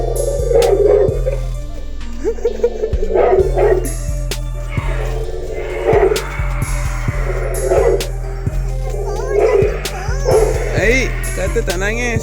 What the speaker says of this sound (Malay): Ada anjing.